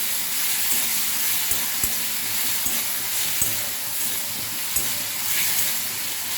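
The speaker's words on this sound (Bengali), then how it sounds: "এবার ওটা দিয়ে দেবো। একটু ভালো করে নেড়ে নেব।" Chilli paste of ground green and red chillies being stirred into a frying fish curry of shankar (stingray) fish, a constant close hiss of frying broken by a few soft, sharp taps and scrapes.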